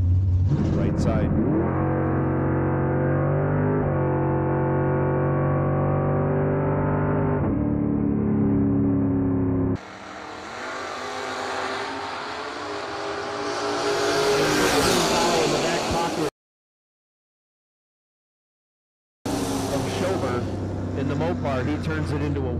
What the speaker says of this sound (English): James Bunner Jr., 574, the dial in his 91 Camaro.